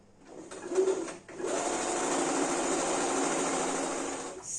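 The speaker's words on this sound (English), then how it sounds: "So I'm going to sew the center so it will create 2 holes there." A sewing machine stitches down the center of a ruched top, a short burst first, then a brief pause and a long, steady mechanical whir running close and even.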